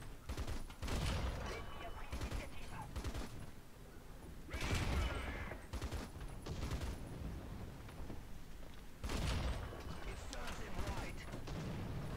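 Artillery fire in the War Thunder ground-forces game booms in several heavy, rumbling bursts spaced a few seconds apart, loud and close, with game mechanical noise filling the gaps.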